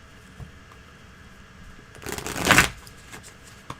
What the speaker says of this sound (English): Give it one more shuffle, Alina, and we're ready.